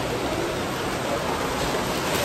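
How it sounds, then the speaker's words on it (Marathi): Heavy rain falls outdoors on the Konkan coast at Ganpatipule, a dense, even, continuous hiss at a loud steady level with no breaks or voices. "इकडे बेकारवाला पाऊस पडतो बाहेर."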